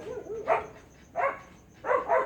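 Three short dog barks ring out at intervals, somewhat muffled as if from a distance outside, with quiet pauses between them.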